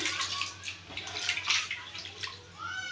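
Water pours and splashes unevenly into flour for a fried snack batter, with small gurgles and drips, close by and fairly quiet.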